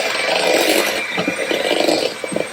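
Electric mixer beating butter with Louisiana cane sugar, brown sugar and white granulated sugar: a close, steady motor whine with gritty, uneven churning pulses from the dough, alone, no talk.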